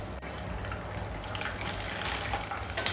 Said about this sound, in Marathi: तेल आपलं व्यवस्थित तापलेलं आहे. आता आपण त्यामध्ये नायलॉन साबुदाणा टाकूया